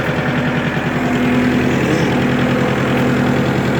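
Kubota L4701 tractor engine idling while the PTO is raised, a steady low diesel rumble with a rhythmic chug and a faint whine, continuous and close.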